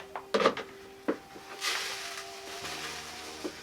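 Chicken feed scooped and poured through a cut-down funnel into a 4-inch PVC pipe feeder, with a few close scraping clinks and a soft rushing pour of grain, fairly quiet.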